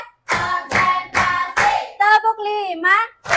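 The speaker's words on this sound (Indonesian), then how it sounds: "Tepuk 1, tepuk 2, tepuk 3, tepuk 4," Classroom children clap their hands in a counted rhythmic pattern, sharp claps in quick bursts that alternate with a teacher's sing-song chanting voice counting in Indonesian, close and loud.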